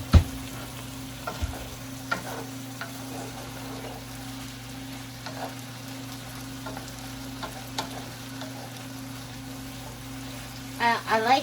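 Zucchini mixture simmering in an uncovered pan, a steady faint crackling sizzle with occasional stirring clicks and scrapes, a louder clatter of utensil activity near the end; close and low-level, no speech over it.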